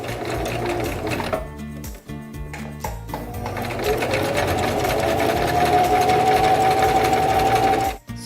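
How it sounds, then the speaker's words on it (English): Sewing machine running steadily across the top hem of a fabric bread bag, stitching through folded cloth with a few brief pauses early on, then a long continuous run, close and loud. "Right now we're just going to sew the hem across the top"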